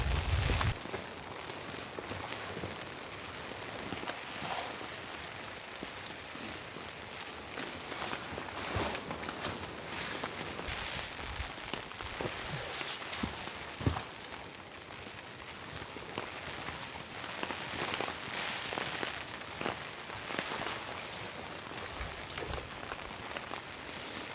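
Heavy rain pours onto a campsite tarp during a storm, a dense, continuous patter of drops with scattered louder taps and occasional shuffling movement nearby.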